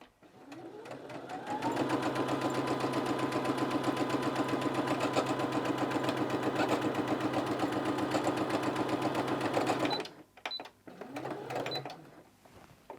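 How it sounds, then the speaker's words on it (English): Sewing machine stitching fabric pieces together for recycled bunting, a steady, loud, close run of rapid needle clatter lasting about eight seconds, then stopping abruptly, followed by a few brief starts and pauses. "right sides together, and I'm going to sew these"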